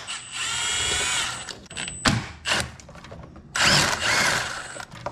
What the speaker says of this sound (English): Take out those two 10 millimeter bolts real quick.